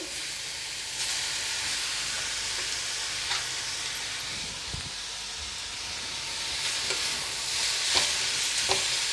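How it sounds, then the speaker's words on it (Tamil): Green peas, onion and boiled potatoes are sautéed in a pan with a steady frying hiss and a soft steamy sizzle, plus occasional scrapes and taps from a stirring spoon. "இப்போ பச்சை பட்டாணி வெங்காயம் எல்லாம் ஓரளவுக்கு வதங்கினதுக்கப்புறம்"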